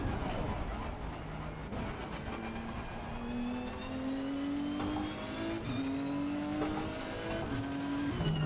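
A race car engine in Assetto Corsa Competizione, played on PS4 with a steering wheel, revs up repeatedly, pitch climbing through each gear with brief drops between shifts, moderately loud and alone.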